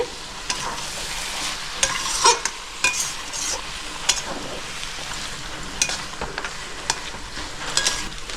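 Cabbage cooked with fish head, potatoes and ground garam masala is stirred in a hot pan: a spoon scrapes and clinks in uneven strokes over a continuous close sizzle.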